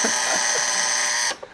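A mechanical alarm clock's loud, harsh bell buzzes steadily for over a second, then cuts off abruptly with a small metallic clunk.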